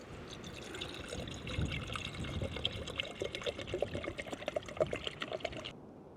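Water pours steadily into a camping stove pot, a splashing trickle that grows louder and more gurgling, then stops abruptly near the end.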